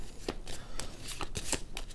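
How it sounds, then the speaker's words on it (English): A deck of playing cards is shuffled during a solo prototype board game, a series of soft, papery riffle bursts in an irregular rhythm, close and fairly quiet. "Shuffle those up."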